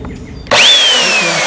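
An electric chainsaw starts abruptly after a quiet moment and runs at a steady, loud whine close by, its pitch rising as the motor spins up and then holding with a slight droop.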